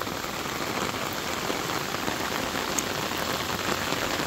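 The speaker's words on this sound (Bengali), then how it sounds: "দেখেন কিভাবে বৃষ্টি পড়তেছে" Monsoon rain pours onto a paddy field in a dense, even patter of drops that holds steady throughout, close and fairly loud with no voices.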